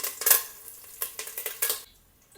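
Leaves crackle and sizzle in hot oil with a few sharp bursts and stirring clatters, then the sizzling quiets down.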